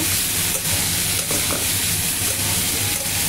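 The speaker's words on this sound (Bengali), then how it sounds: "এবার মশলাগুলো দিয়ে ভালো করে কষিয়ে নিয়ে নামিয়ে ফেলব।" Spices fry in a pan for a Bengali fish curry, giving off a loud, continuous sizzle and hiss with faint stirring scrapes, close by and with no voices.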